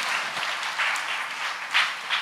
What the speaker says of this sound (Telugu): చప్పట్లు కొడతారా అనుకున్నానే